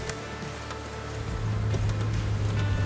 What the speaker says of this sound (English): this rain is just relentless